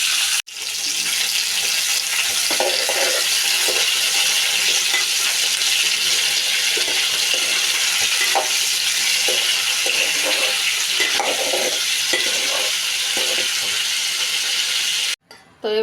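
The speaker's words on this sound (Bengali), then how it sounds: "তেলে শুকনো মরিচ আর তেজপাতা দিয়ে দিলাম। এবার দিয়ে দিব ধুয়ে রাখা টক জলপাই। নেড়ে ছেড়ে কষিয়ে নিব একটু।" Washed sour olives frying in oil with dried chili and bay leaf, a loud, constant hiss of sizzling with occasional soft stirring scrapes, ending abruptly.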